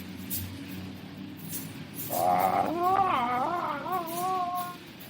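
A man imitates a wolf howl with his voice, a rising, wavering drawn-out cry lasting a few seconds, close and fairly loud over a low background murmur.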